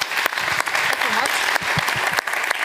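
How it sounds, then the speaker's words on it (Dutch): Warm applause from an audience at a Dutch science café evening, steady dense clapping filling the whole stretch at close range with no voices. "Mag ik een hartelijk applaus voor Bibi?"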